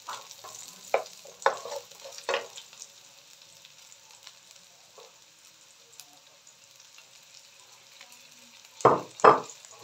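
Garlic dropped into a hot pan while cooking ginataang alimasag crackles in short bursts, with stirring scrapes at first, a quieter simmer through the middle and two loud sizzling hits near the end.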